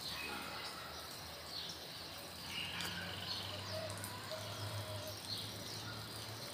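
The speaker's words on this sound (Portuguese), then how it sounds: "Os passarinhos voando." Birds chirp faintly and sporadically outdoors near a herb garden, small calls scattered over a steady low hum and soft background noise.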